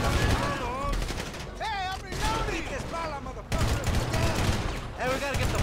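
Bursts of gunshots in the video game GTA V, a dense volley of rapid fire that breaks off and resumes, with voices speaking over the shooting.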